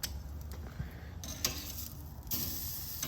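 Chuck eye steak sizzles steadily on a Weber 22-inch charcoal kettle grill fitted with a charcoal diffuser, a soft continuous crackle and hiss with faint ticks, no voices.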